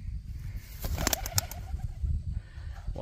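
Pigeon flushing from a field cubby, a quick burst of wing flapping and clatter in the middle of the clip, followed by soft cooing against outdoor background noise.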